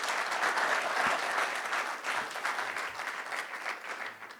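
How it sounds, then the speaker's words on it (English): A live studio audience claps steadily at an agricultural convention event, a dense, even wash of applause that tapers off slightly toward the end. "Let's give them a round of applause since we do have a live studio audience."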